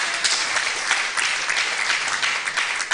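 A church congregation applauds the vice-president in a dense, sustained burst of clapping from many hands, steady and fairly loud with no voices over it.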